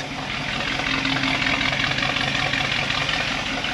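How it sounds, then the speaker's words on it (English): A fire-damaged Buick Electra 225 idles with a charred, holed exhaust, giving a steady, loud, close rumbling drone that holds evenly throughout with no talking. "Very charred exhaust note."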